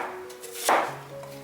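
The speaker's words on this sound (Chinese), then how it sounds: "姜蒜切成粒， 小洋葱切小块" A single crisp knife chop on a cutting board while ginger and garlic are cut into small pieces, one close sharp knock with a faint tonal hum under it.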